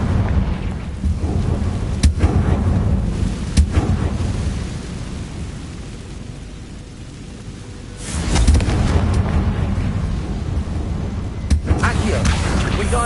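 Confringo blast spells go off in Hogwarts Legacy with deep, booming explosions. Several heavy blasts land with sharp attacks and rumbling tails, the biggest surge comes partway through, and a shouted voice is heard among them.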